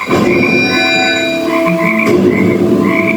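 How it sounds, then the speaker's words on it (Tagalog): Many frogs croak together in a loud, continuous chorus of overlapping calls, some high and ringing, others lower and rattling. "Palakang karag ang inahuli namin dito sa amin"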